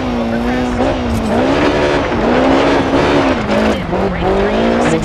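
A BMW E30 Evo rally car drifting in the DIRT 4 racing game gives a loud, close engine drone that rises and falls with the throttle, mixed with tyre scrabble and gravel noise.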